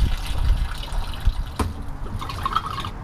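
Water drains out of a water purification system in a gurgling, trickling flow with drips and a sharp knock midway, close and moderately loud with no talking.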